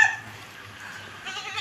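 Two young goats bleat in short, thin calls outdoors, faint to moderate and fairly close, with a quiet background between calls.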